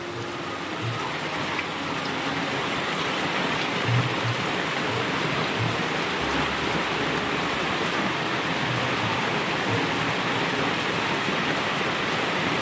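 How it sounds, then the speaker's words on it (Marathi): Steady rain pours down in a dense, continuous hiss in a Konkan village, close and even throughout, with no voices. "तर मंडळी पाऊस पुन्हा चालू झाला आहे"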